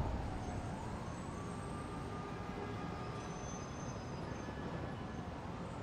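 A train on a turntable in Spider-Man: Miles Morales gives off a dense, continuous rail rumble with faint metallic squeals drifting above it, with no talk throughout.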